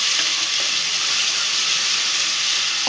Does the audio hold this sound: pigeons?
no